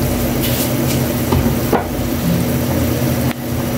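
Pait (bile) going into a hot pan of papaitan, a Filipino bitter stew: loud, steady close sizzling and frying hiss with a couple of brief scraping stirs, no talking.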